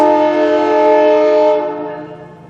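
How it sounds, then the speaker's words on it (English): A passing train sounds its horn in a long, loud, sustained chord that holds steady and then fades as it moves away. "Gotta love that train."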